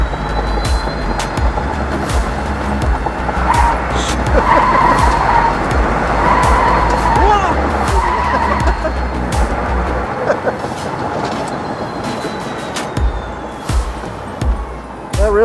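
A self-driving car speeds through a test course at about 45 miles per hour, its tires squealing and skidding through turns over a steady motor drone and road rumble, loud and close from inside.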